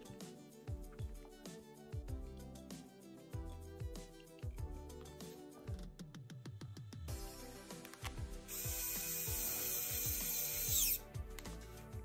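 A small electric screwdriver works screws on a Traxxas TRX-4M 1/18 RC rock crawler, giving repeated short whirring bursts and ratcheting clicks, then a longer continuous high-pitched whine near the end.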